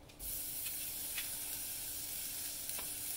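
Meatballs sizzle in a skillet, a steady close frying hiss that starts suddenly and carries on evenly with faint crackles, no talking.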